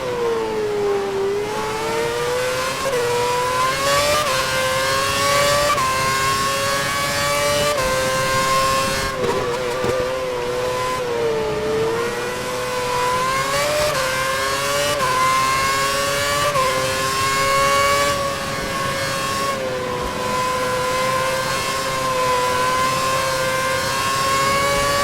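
Formula 1 race car engine in the 2011 Formula 1 video game, Istanbul circuit, revving continuously with rising and falling pitch through gear changes, loud and steady for the whole stretch with no talk over it.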